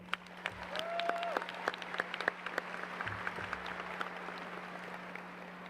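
Applause for faculty and staff at a 2019 Hutto High School graduation, a soft, distant patter of clapping across a large hall, fairly faint and sustained with a low electrical hum beneath.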